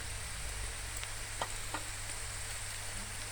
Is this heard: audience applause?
no